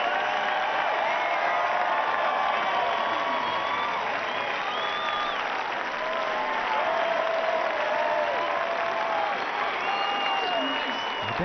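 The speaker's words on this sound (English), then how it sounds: "Gold at last, the cheering will never end." A stadium crowd at the London 2012 Olympic women's pair rowing final cheers and applauds for a gold medal: a dense, steady roar of clapping and shouting that fills the whole stretch without a break.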